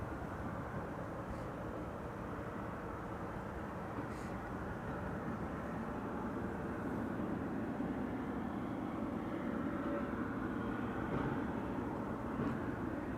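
A KLM Embraer 190 airliner on approach to Schiphol airport makes a continuous, moderately faint, distant rumbling drone that swells slightly over time, with no speech heard.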